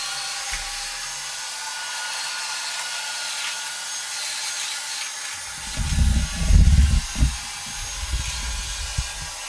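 Xiaomi Roborock S50 robot vacuum sucking up glass shards, a steady whirring drone with a burst of low rattling and clattering near the end as debris is pulled in.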